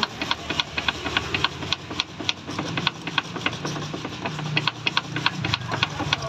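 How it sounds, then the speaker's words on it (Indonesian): An electric mixer whirs and rattles while blending chocolate milk tea at a drink stall. It gives a steady buzzing hum with rapid regular ticking close by, and a voice speaks briefly underneath. "Nah, ini gini mixer."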